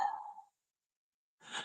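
A voice imitates heavy, labored breathing, like an old gorilla: a long exhaled sigh fading out, a second of silence, then another sharp breathy rush close to the microphone.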